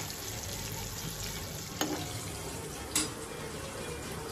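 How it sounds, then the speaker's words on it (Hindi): Paneer cubes frying in hot oil for chilli paneer make a steady, close sizzle, broken by two brief sharp clinks of stirring, with no talking. "और अच्छे से आप इसको फ्राई कर लीजिए।"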